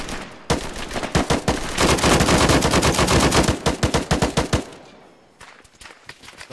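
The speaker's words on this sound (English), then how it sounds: "Because we're shooting at people who are over there." A sustained burst of rapid automatic gunfire, loud and close, with dense overlapping shots over about four seconds, then tapering into scattered single shots and echoing fire.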